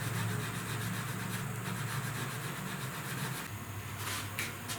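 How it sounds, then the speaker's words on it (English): Rolled-up sandpaper rubbed over a 1969 Chevrolet C10 upper cowl panel, a steady dry scraping that runs continuously and close, easing slightly near the end. "I'm rolling it up and kind of making a little mini block out of it"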